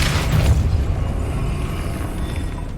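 The Depulso spell in Hogwarts Legacy lands as a loud, deep booming burst, strongest at the start and then fading into a rumbling wash.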